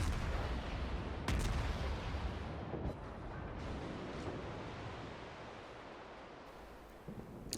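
Heavy warship gunfire in World of Warships, aimed at the battleship North Carolina: a loud continuous roar of naval cannon blasts, with sharp salvo cracks near the start and again around the third second.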